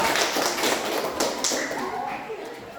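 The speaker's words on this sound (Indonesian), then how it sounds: "Iya, tepuk tangan dulu untuk kita semua ya." A classroom of children applauds together, a dense burst of rapid, overlapping hand claps close by that gradually thins out, with voices chattering underneath.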